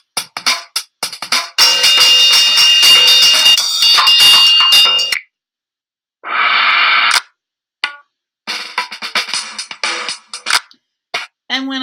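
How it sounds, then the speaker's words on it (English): Drum beat previews from the Scratch coding program's percussion sound library, playing as short bursts of electronic percussion separated by silent gaps, several snippets start and stop abruptly, loud and alone without speech. "We want a nice drum beat for this. And if I hover my mouse over one of these choices, it will preview it for me."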